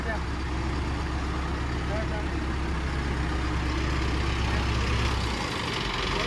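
A tractor engine labours with a steady, heavy low rumble while stuck and sinking in mud, loud and continuous throughout, with voices talking over it.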